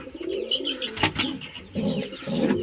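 Pigeons and their chicks in a breeding loft, with several soft, rolling coos from the adult birds repeating close by alongside faint chirps.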